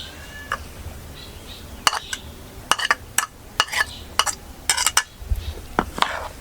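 Coconut and sugar being stirred together in a pan, with a spoon scraping and clinking against the metal in irregular bursts; faint background sounds and no speech.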